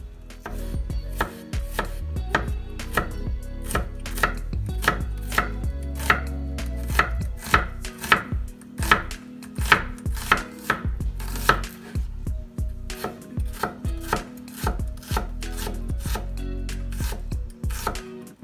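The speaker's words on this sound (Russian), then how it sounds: "Режем лук." A kitchen knife chops an onion on a cutting board for shrimp bruschetta, giving rapid, crisp, evenly spaced strikes that carry on at length with a brief pause midway.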